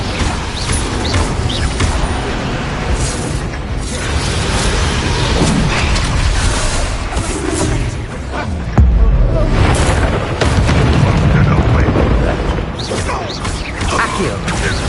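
Confringo and Incendio spell blasts in the Hogwarts Legacy video game, a dense run of fiery bursts, booms and crackling mechanical clatter filling the whole stretch, with a heavier low impact near the middle and a voice faintly in the mix.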